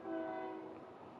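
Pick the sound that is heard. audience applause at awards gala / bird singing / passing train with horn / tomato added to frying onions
passing train with horn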